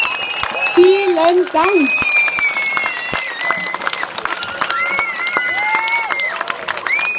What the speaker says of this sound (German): Nochmal einen ganz großen Applaus an unsere iBand